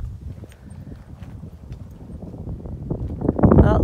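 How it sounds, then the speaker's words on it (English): Gusty wind buffets an outdoor cemetery in Kapunda, Australia, rumbling low and steady across the clip and swelling into a louder, roaring gust near the end. "Bloody wind."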